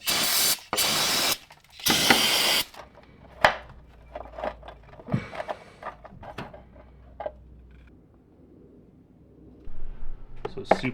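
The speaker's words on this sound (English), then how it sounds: "Hit this with some brake parts cleaner." Brake parts cleaner sprayed onto a Brembo 6-piston front brake caliper on a VB WRX STI: two or three loud, close aerosol hissing bursts in the first seconds, followed by quieter clicks and handling noises.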